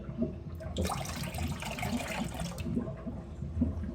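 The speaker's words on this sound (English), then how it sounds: "we're just gonna pour all the water in." Water poured into a bowl of Jello mix while making treats at home, a steady splashing pour running for a couple of seconds near the mic before easing off, with a low background hum throughout.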